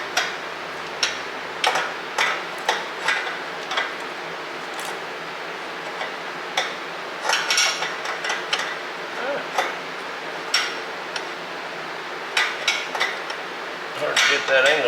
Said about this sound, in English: Okay, so we will get this thing tightened.